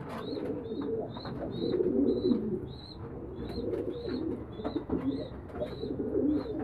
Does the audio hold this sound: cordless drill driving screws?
no